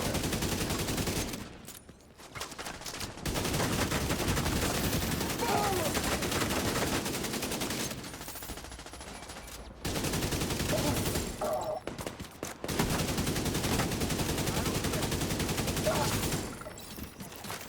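Rapid bursts of video game gunfire fill most of the stretch, dense and loud, with brief gaps between volleys as the shooting presses toward enemies, and a voice talking over parts of it.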